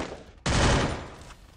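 Gunfire in the Garena Free Fire battle royale game: a sudden loud burst of rapid shots that sustains for about a second and then tapers off, with no talking.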